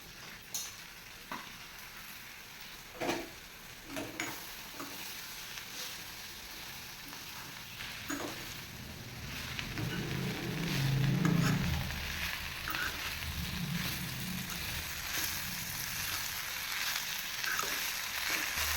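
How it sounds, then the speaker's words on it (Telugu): Spinach frying in oil in a pan, a soft continuous sizzle with a few sharp clinks of a stirring utensil, swelling a little louder toward the middle and heard alone. "పాలకూరను కూడా వేయించుకుంటాను"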